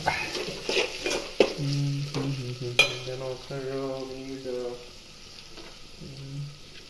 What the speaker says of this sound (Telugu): అప్పుడు ఇలా కలపాలన్నమాట